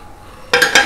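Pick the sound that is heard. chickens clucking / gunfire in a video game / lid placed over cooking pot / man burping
lid placed over cooking pot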